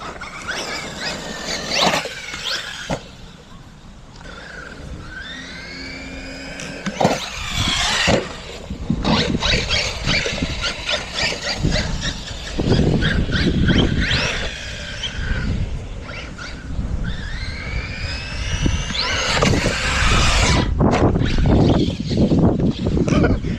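RedCat Valkyrie 4S RC car jumping and landing, its electric motor whining and squealing in rising and falling bursts, with hard, sharp thuds from the impacts, loud and close outdoors.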